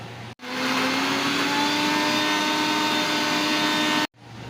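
A mixer grinder whirs loudly and steadily for about four seconds as it grinds chilli powder and coriander powder masala, starting and stopping abruptly, with no talking.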